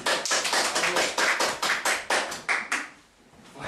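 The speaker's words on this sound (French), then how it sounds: "On applaudit." A small group applauding: a brisk, rhythmic run of close hand claps that stops abruptly near the end, leaving a brief quiet gap before a last faint sound.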